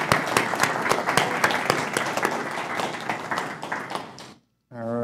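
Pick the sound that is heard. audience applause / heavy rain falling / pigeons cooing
audience applause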